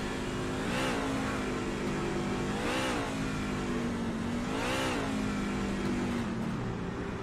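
A NASCAR Truck Series engine at Martinsville Speedway held in high gear: a loud, sustained mid-pitched drone that rises and falls in three or four revving swells, then sags and fades toward the end, with no voices.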